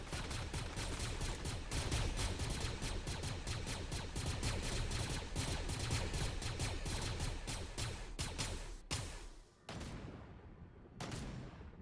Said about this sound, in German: Er knallt mich ab!